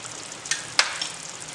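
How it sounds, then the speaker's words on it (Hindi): Chicken barra gravy fries in a pan over raised heat, a faint steady sizzle broken by two or three soft sharp pops, with no talking. "अब हम गैस को थोड़ा तेज़ कर लेंगे और एक बार इसको इसमें और भुनेंगे"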